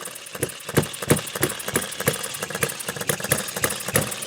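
A Retrol Musa HM-01 hit-and-miss four-stroke gas engine running in hit mode, giving a steady run of sharp, evenly spaced firing knocks with mechanical rattle and vibration, close and clear with no talk.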